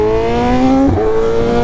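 BMW M1000RR motorcycle ridden hard, its engine revving in a loud, steady high-pitched whine that dips briefly as the revs shift, then climbs again, close and dominant with no talking.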